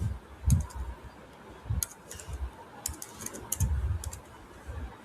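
Keys clatter on a computer keyboard as a registration form is filled in, with quick irregular bursts of clicks and soft thumps close by and short gaps between them.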